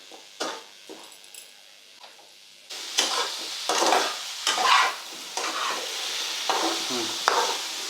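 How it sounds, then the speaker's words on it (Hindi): Indian hog plum chutney with lumps of jaggery being stirred and fried in a pan, with spoon scrapes and soft sizzling in uneven bursts that rise louder after the first few seconds, close by with no talking. "अब गुड़ डालने के बाद भी इसे आप 1 मिनट तक ही भूनें।"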